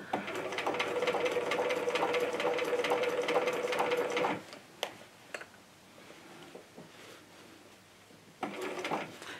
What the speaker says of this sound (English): I'm not thrilled with using a walking foot for this type of stitching.